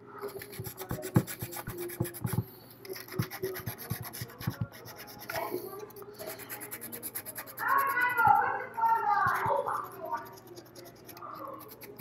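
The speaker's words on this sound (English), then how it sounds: "I'm gonna go in here and sand this down a little bit. This is just some 180 sandpaper." A model kit part being sanded by hand with 180-grit sandpaper, giving short scratchy rasping strokes, close and fairly quiet, with a brief louder scraping stretch near the end.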